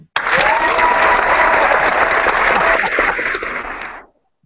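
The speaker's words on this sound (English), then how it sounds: "put your hands together in a clapping motion for Robert McFletcher." Audience applause at a live stage show, a dense burst of clapping that starts abruptly, holds loud and steady for about four seconds, then cuts off.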